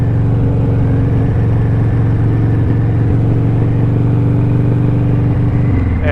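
A car or motorcycle engine held at high RPM after a downshift during break-in running, a loud steady drone with strong low harmonics that shifts near the end.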